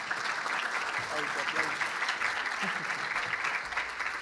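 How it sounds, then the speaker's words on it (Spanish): An audience applauds panelists at a science communication panel in Colombia, a steady, dense clapping that fills the whole stretch at moderate level with no pause. "le ruego un fuerte aplauso para nuestros panelistas"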